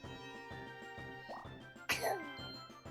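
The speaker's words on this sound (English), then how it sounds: "How many times are you gonna sneeze?" A child sneezes once, sharp and sudden, over steady, quiet Mario Party video game music.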